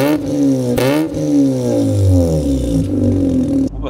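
A tuned Mazda RX-8 rotary engine with a stage 1 clutch revs hard, its high buzzing note climbing and dipping through several loud, close pulls with no talk over it.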